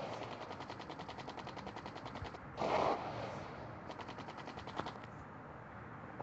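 Rapid machine-gun fire and missile blasts from the Sky Fighters aerial combat video game, steady rattling bursts with a louder explosion in the middle, heard alone without talk.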